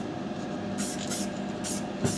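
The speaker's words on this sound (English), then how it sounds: "patchy and light spray. We want some of that brown that we've got on there to show through." An aerosol spray paint can gives light, patchy bursts over an MDF wargaming model, four short hissing sprays spaced about half a second apart, close and clear over a faint background hum, with someone talking quietly between bursts.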